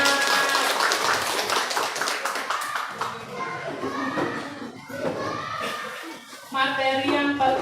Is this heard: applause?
yes